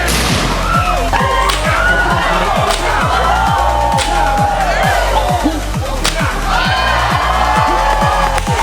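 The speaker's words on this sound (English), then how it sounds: "As this mob applauds wildly for their champions in their own." A crowd at a pirate whip show cheers and shouts in a dense, continuous roar, with a low rhythmic pounding and sharp cracks and slaps scattered throughout, close and loud.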